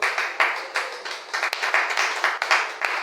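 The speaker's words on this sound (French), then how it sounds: "Est-ce que tu peux acclamer pour cette parole?" A congregation at a night prayer vigil breaks into brisk, steady applause, many hands clapping close together in a continuous rhythmic patter with loud pulses throughout.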